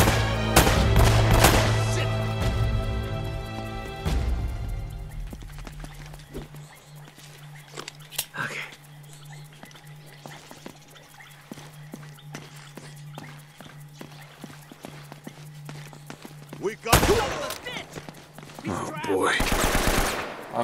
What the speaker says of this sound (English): You're shooting at the friggin' rocks.